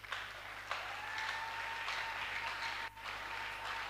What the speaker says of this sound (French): Nous pouvons acclamer pour Jésus.